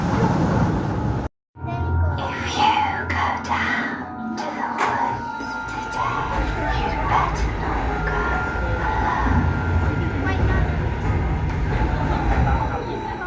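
Th13teen roller coaster at Alton Towers on a ride, with a brief silent gap, then a continuous rolling, rumbling train noise with screeching and wheel clatter, loud and close throughout.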